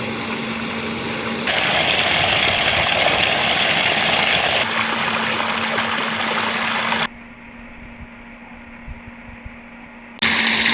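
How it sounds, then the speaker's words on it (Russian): Water running from a hose pours into a submerged bag of pool salt, a steady rushing hiss that changes level partway and then drops to a quieter watery trickle before surging back. "Вода бьет в мешок."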